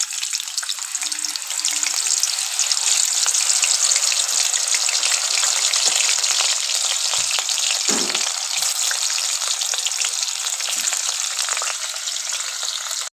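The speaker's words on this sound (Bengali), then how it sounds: "এগুলো এক এক করে ভেজে নিচ্ছি।" Chicken potato butterflies deep frying in oil, a loud, continuous close-up sizzle and bubbling hiss with a few faint knocks underneath.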